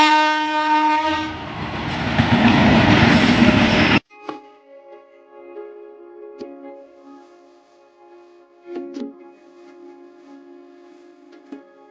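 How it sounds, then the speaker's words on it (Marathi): Train horn blaring at a railway level crossing near Badlapur, a loud sustained blast for about four seconds, followed by the quieter rumble and intermittent clatter of the train passing. "फाटकात ट्रेन आली."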